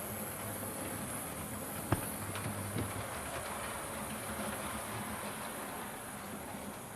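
A model railway locomotive reverses out of a station with a steady, close rolling rumble and hiss, plus a couple of faint clicks near the start.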